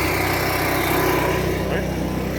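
An Onan Micro Quiet 4000 generator with a no-start code 14 runs steadily and loudly close by, a continuous droning engine hum with a regular low throb from start to finish.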